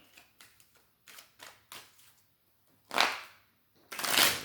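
Tarot cards being shuffled nearby in a series of soft riffles and slides, ending with two louder, rushing bursts as the deck is bridged.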